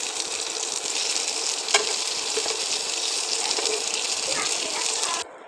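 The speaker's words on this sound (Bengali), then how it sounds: "দেখুন প্রায় ভাজা ভাজা হয়ে গেছে, আর সামান্য একটু হলেই নামিয়ে নেব।" Shing catfish, coated in salt and turmeric, frying in hot oil in a pan: a loud, dense, continuous sizzle close up that cuts off abruptly near the end.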